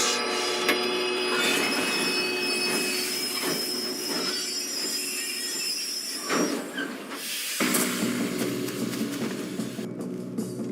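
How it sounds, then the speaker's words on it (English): A train in the video game Red Dead Redemption 2 rolls on during a robbery, with a steady rumble, high squealing wheels and hissing steam, and shifting metallic clanks, loud and continuous throughout. "We have to stop this train."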